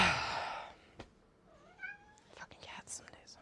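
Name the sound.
cat yowling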